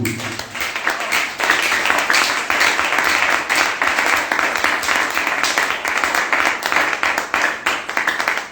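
A church congregation cheers and applauds for Jesus, a dense, steady wash of clapping and shouting that swells in after the first second and holds loud and continuous to the end.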